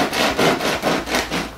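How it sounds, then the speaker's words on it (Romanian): A knife saws through a loaf of homemade Turkish ekmek bread, cutting it in half with several even back-and-forth strokes that sound close, crusty and scratchy. "Da, hai să o tai pe jumătate."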